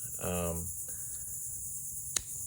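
Bugs chirp continuously once a fan is switched off, a steady high-pitched insect chorus with a brief spoken phrase at the start and a faint click near the end.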